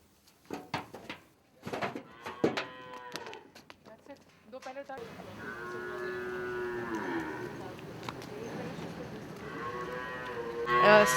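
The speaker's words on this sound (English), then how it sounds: "In this paradise, the cows live peacefully until their dying day." Cows at a cow shelter in India moo in long, drawn-out calls that dominate the second half, following an opening stretch of brief speech and thumps; a last loud moo closes it.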